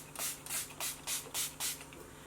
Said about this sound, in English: This is like the best drugstore setting spray I've ever used.